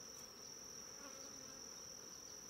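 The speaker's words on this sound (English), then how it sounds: "Do you see this bee that's like right in my face?" A honeybee buzzes close to the face at a beehive, a steady thin drone that hums on without a break for a few seconds and is heard alone.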